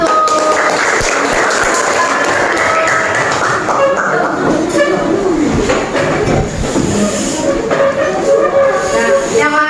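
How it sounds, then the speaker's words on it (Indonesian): Classroom applause for a student discussion group, a steady dense clapping wash that lasts throughout and stays loud, with a few voices mixed in. "coba tepuk tangan untuk kelompok 1"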